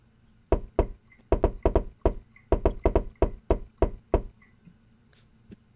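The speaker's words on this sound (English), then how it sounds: "He turns around and he does a fancy little knock on the door and then opens it." A fancy rhythmic knock on a door, performed as a quick syncopated pattern of about a dozen sharp, close raps with short pauses between groups, standing alone in a quiet room.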